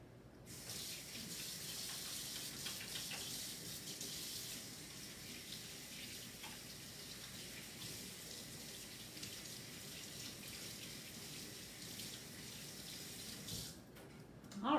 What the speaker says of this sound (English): you should wash your hands because the eggshell itself can carry salmonella